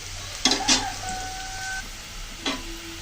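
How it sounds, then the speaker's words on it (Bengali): Onions frying in oil until deep golden brown: a soft continuous sizzle underneath, punctuated by a few sharp metallic clinks of a spatula against the pan and faint thin tonal beeps in the background. "পেঁয়াজগুলো দেখুন একদম বেরেস্তার মতো করে আমি ভেজে নিলাম লাল লাল করে।"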